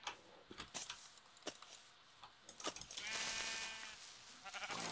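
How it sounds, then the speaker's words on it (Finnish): A sheep bleating in the video game Minecraft, a drawn-out tonal bleat standing out over scattered clicks and ticking game sounds, moderately close and clear. "Lammas"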